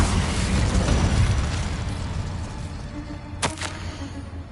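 Spell explosions from Hogwarts Legacy: a rumbling, booming blast with crackling debris up front that fades into a lingering low rumble, then a sharp bright burst near the end, all without talk.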